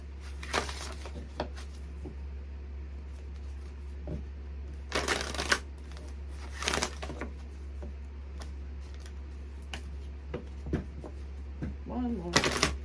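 Tarot cards being shuffled in repeated riffling bursts of about half a second each, separated by quieter handling and a low steady hum.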